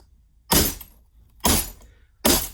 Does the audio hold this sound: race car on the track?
no